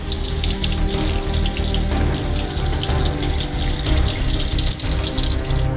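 Tap water runs steadily into a sink as a pickled salmon fillet is rinsed under it, a loud, even splashing stream that continues without a break.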